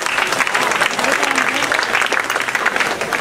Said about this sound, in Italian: fate un applauso anche a loro perché se lo meritano